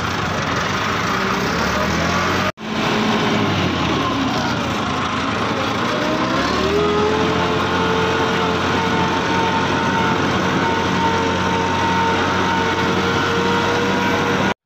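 A tractor engine running steadily at idle, a continuous low rumble close by that carries on after a brief cut near the start, with no talk over it.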